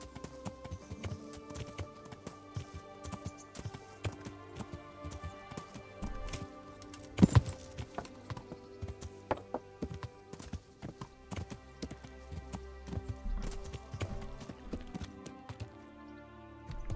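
Horse hooves clip-clop at a gallop in the medieval game Kingdom Come: Deliverance, a quick, steady rhythm of close hoofbeats running on and on, with a brief louder knock partway through.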